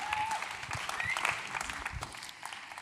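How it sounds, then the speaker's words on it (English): An audience at a Paris NFT conference breaks into steady applause, a dense wash of clapping from a moderately sized crowd that holds for a few seconds at even strength, with a faint tone or two cutting through. "Another round of applause for Stone and Sean Bonner."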